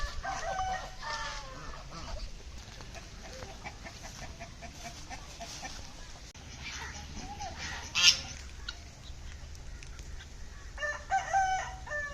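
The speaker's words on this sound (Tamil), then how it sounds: "கருங்கோழி எத்தனை" Black chickens (karunkozhi) on a farm crow and cluck: scattered clucks, a loud crow around the middle, and more calls near the end, at moderate distance amid outdoor ambience.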